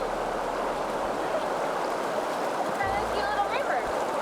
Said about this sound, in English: We're trying this cute little river.